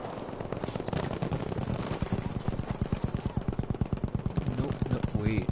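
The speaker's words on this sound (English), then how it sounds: "Gunfire is always a sure sign of enemies." Rapid, steady bursts of gunfire in Battlefield 5, a loud automatic weapon firing continuously with a sharp rhythmic clatter.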